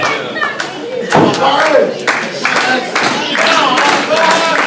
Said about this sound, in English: The crowd really gearing up to get behind the King of Fools.